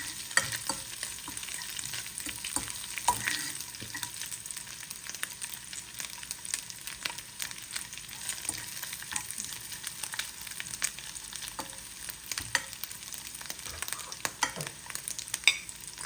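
Food sizzles and fries in a pan for a long stretch, a soft steady crackle broken by occasional stirring clicks and scrapes, with no voices.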